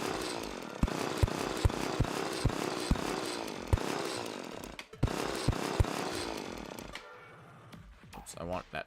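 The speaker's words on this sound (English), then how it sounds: "We will do jackhammer." The Terraria jackhammer tool pounds in a steady mechanical chatter with sharp periodic impacts about twice a second. It runs loud for several seconds, breaks off briefly, then resumes before fading out near the end, with talk underneath.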